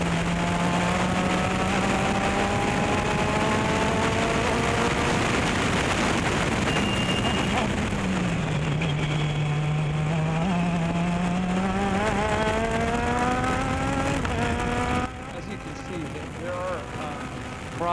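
Onboard sound from an SCCA regional race car lapping the Buttonwillow circuit: a loud engine drone climbs through the revs, drops on each upshift or lift, and rises again, with wind noise throughout and no talking.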